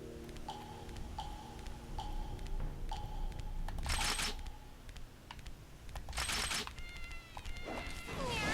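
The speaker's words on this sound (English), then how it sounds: "they make real cat noises, and they also make nya sounds" Cat meows in the Guilty Gear 2 Overture video game come as short bright mewing calls over steady in-game ticking beeps and background music, one louder meow rising near the end.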